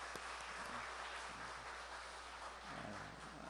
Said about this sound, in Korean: 우리 박수로 우리 환영하고 축복하겠습니다.